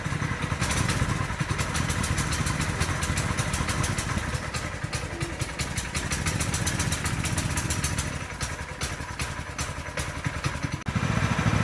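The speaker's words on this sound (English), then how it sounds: "I've gassed up the bikes and started them up." Two TrailMaster MB200 mini bikes idle as they warm up after first starting, a loud, steady, close putter of small single-cylinder engines with a fast, even firing rhythm.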